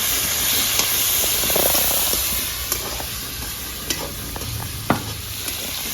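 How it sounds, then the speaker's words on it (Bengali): Fish frying in a pan for a Bengali potol-chingri dish gives a steady close sizzle and hiss throughout, broken by a few sharp clicks and spatters, with no talking. "আমি মাছটা ভেজে নেবো।"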